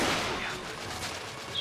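Carbine gunfire in the video game The Order: 1886, a dense burst of shots at the start that fades into a rumbling, echoing tail with a smaller crack near the end.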